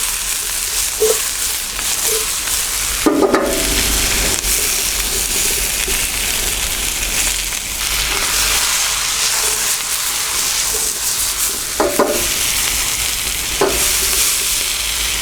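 Peppers stir-frying in a hot pan for Chinese salt and pepper beef, a steady close sizzle with occasional scraping stirs and clatters of a utensil against the pan.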